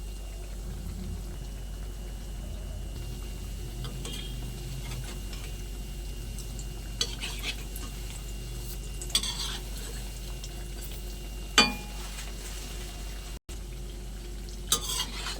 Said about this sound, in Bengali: তো বাকি বড়াগুলো আমি ওই একই পদ্ধতিতে ভেজে নেব